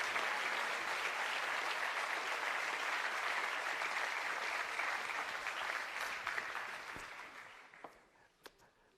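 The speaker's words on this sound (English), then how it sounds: "This is your applause." Audience at a university graduation ceremony for bachelor and master graduates claps in sustained, full applause that fades out over the last second or two into a few scattered claps.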